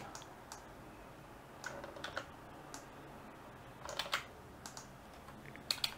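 Code is typed quickly on a computer keyboard, close and quiet, as uneven bursts of light key clicks with short pauses between them and no voices.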